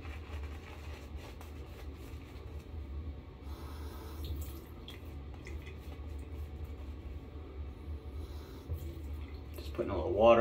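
Faint running water from a tap wets a shaving brush for a travel shave with a Palmolive shave stick, a low steady trickle with a brief louder splash at the end.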